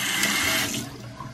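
Steady rush of water running from a hotel-room tap, loud and close, continuing alone for the whole moment with a slight drop in level partway through.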